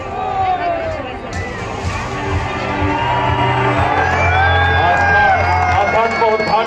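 A large crowd of devotees at the Ganga Deep festival at Har Ki Pauri, Haridwar, fills the air with loud, continuous babble, shouts and whoops, with a sustained tonal drone running underneath.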